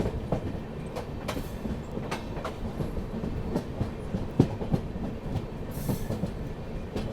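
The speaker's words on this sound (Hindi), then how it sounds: "फिलहाल अपनी ट्रेन पहुंची है सुवासरा रेलवे स्टेशन।" Train rolling into Suwasra railway station on the Bilaspur–Bhagat Ki Kothi Express, with steady rumbling wheels and repeated clickety-clack joint beats, heard from inside the coach at moderate loudness.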